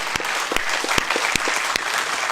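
Listeners at a spiritual discourse clap at moderate strength, a fairly thin applause with sharp individual claps popping out irregularly over a soft, continuous patter.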